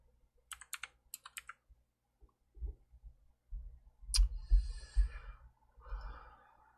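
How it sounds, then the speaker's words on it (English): Keystrokes on a laptop's built-in keyboard, a quick burst of close, crisp clicks followed by sighs and low breathing, then a few more faint taps and shuffling near the microphone. "now I gotta use the keyboard on the laptop again"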